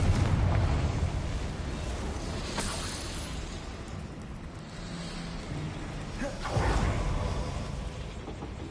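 A Confringo fire spell erupts in Hogwarts Legacy, a sustained roaring blast with rumbling explosive bursts, loud and dense throughout with swelling booms near the start and end.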